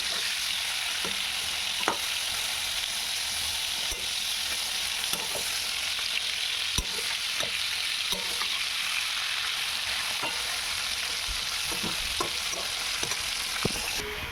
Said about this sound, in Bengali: তো এখানে আমি ভেজে নিচ্ছি। দেখো আমি কীভাবে ভাজছি।